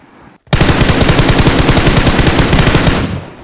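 Sustained automatic gunfire from a battle royale shooter, BGMI on the Livik map, opens after a brief silence and rattles on as one long, loud, rapid burst for about two and a half seconds before fading, with no voices.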